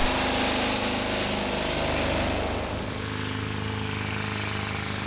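A Scania lorry engine in a modified pulling tractor roars loud and steady at a Danish tractor pulling championship in Korskro, accelerating hard before the sound drops slightly and carries on.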